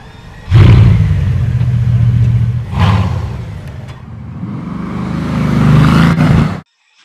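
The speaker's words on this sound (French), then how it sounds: "Bugatti Veyron." A Bugatti Veyron engine roars close and loud, rising through revs with a brief dip and a second surge before cutting off abruptly.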